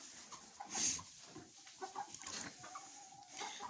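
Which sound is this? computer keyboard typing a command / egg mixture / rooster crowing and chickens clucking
rooster crowing and chickens clucking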